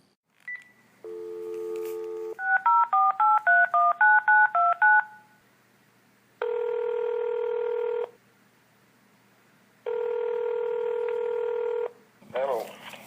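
A telephone call is placed with clear touch-tone dialing: a short tone, a rapid run of about eight DTMF beeps, then two long ringback tones separated by silence, ending as a voice answers.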